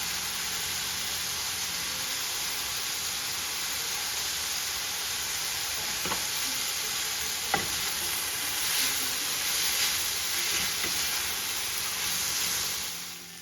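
Mushrooms and onions sizzle and fry steadily in a pan, a loud continuous hiss with a couple of brief knocks of stirring, no voices.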